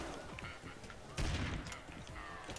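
Gunfire from the Family Guy Back to the Multiverse video game on Xbox 360, a burst of shots with one heavier blast in the middle, mixed with game effects and music, with a voice talking faintly underneath.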